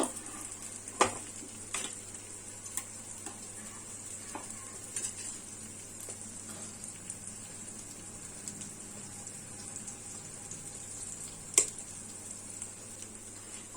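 Masala with salt and a little water being stirred and cooked down in a pan for a paneer dish, with a faint steady sizzle, occasional utensil scrapes and clinks, and a sharper knock near the start and near the end.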